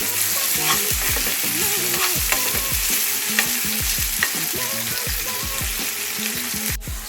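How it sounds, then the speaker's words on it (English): Tadka of spices sauteing in hot oil in a pan for dal, a steady close sizzle and crackle with repeated scraping and stirring strokes throughout, no voices. "Guys, we are just sauteing the tadka."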